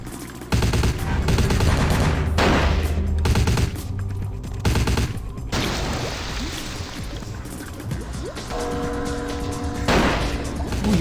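Sniper fire and other gunshots crack out in the Vampire the Masquerade Bloodlines video game, repeated sharp reports mixed with bursts of automatic fire and a car engine, loud and busy across the whole stretch.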